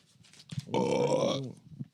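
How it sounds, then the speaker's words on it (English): A long, loud burp sounds close into a microphone, swelling for nearly a second with a rough, gurgling tone, followed by a few quiet breaths and small mouth noises. "Just burping into the fucking microphone."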